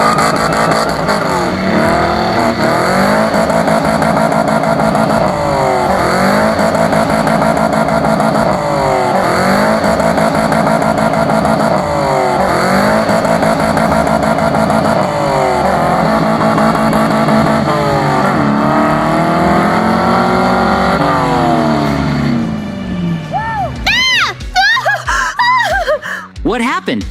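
Cars in a Minecraft rope-pulling contest roar continuously with revving engines that rise and fall in repeated cycles, loud and close, until the engines break off near the end into wavering, sweeping tones.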